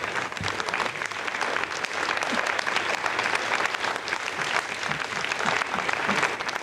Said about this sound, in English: Oh, I see a huge round of applause going up with everybody